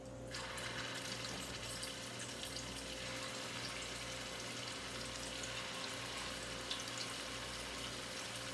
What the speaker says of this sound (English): Alright, it's starting to sizzle now.